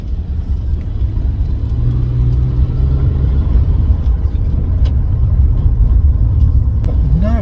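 A Jaguar Series 3 V12 idling slightly rough, with no rattles, a steady deep low rumble with a faint uneven pulse that holds close and even throughout.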